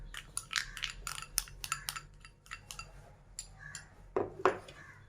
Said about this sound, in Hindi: अब इसको अच्छी तरह से मिक्स कर लेते हैं।